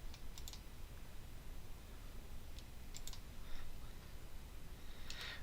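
Keyboard and mouse clicks while holding the control key to select items on a computer, a few sharp scattered clicks over a steady hiss of background noise, close and sparse.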